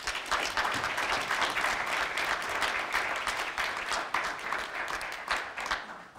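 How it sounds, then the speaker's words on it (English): A festival audience applauds warmly to welcome a moderator onstage, a dense, even wash of clapping from a large crowd that holds steady throughout and tapers slightly at the end. "So please extend a very warm welcome to Nick Davis."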